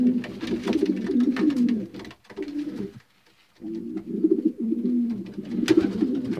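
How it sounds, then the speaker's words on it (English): Racing pigeons in a backyard bird loft with nesting boxes, cooing steadily in low, throaty, overlapping calls close by, with a brief lull midway before the cooing resumes, no talking. "These are all my race birds."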